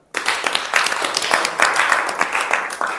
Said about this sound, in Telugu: వెరీ గుడ్, చక్కగా సాయి చెప్పాడు కాబట్టి చప్పట్లు.